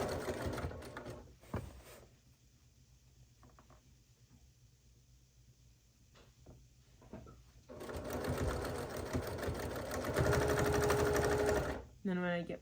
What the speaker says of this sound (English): start sewing a little bit further back from where I stopped, back stitching and then finishing it off